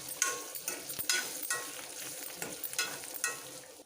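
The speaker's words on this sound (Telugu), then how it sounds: "ఇప్పుడు కాకరకాయ బాగా వేగిందండి." Bitter gourd (kakarakaya) sizzles as it fries in a pan, with irregular scraping clicks of a spoon stirring it, close and fairly soft, with no talking.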